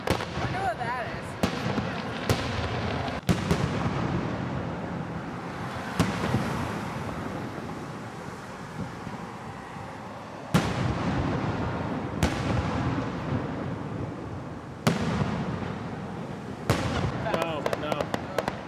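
A grand-finale Fourth of July fireworks display over Gatlinburg, a dense continuous barrage of booms and crackling bursts with sharp loud reports throughout, echoing from a distance as people talk nearby.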